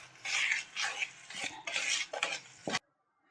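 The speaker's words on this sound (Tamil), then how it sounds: "சுகர் ஆட் பண்ணதுக்கப்புறம் நல்லா இந்த மாதிரி பட்டரை நல்லா மிக்ஸ் பண்ணி விடுங்க." Butter and sugar are being mixed in a bowl for an eggless semolina (rava) cake. A spoon scrapes and stirs in several close, rhythmic strokes, then stops abruptly into silence.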